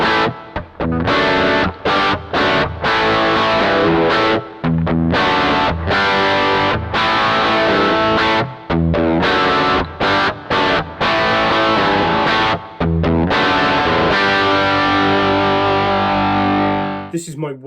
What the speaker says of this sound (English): this one is my straight ahead distorted overdriven sound